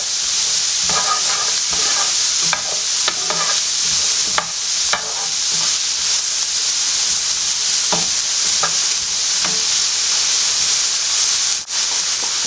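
Pork frying in a pan alongside peppers until browned, a loud, constant sizzle and hiss with scattered pops and the occasional scrape of stirring, no talking.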